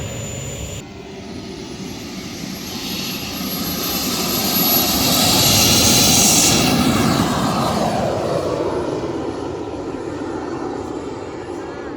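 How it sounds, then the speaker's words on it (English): Large RC model jet and several propeller planes roar overhead at a big RC flying event, the engine noise swelling to a loud peak midway then easing off, with people talking beneath it. "4 planes up right now, and then the jet that's going to take off"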